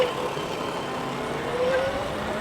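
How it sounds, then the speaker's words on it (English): Riding an e-bike along a road, a car goes by close in a steady broadband whoosh, a faint rising whine threading through the road and wind noise. "Watch that car, bud."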